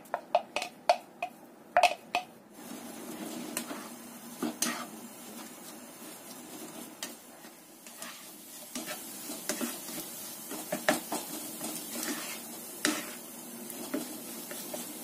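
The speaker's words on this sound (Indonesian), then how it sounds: "Kita masukkan kacangnya, sambal kacangnya ke sini ya" Peanut sauce sizzling in hot oil with repeated scraping and stirring clicks of a utensil against the pan, close by and uneven in rhythm.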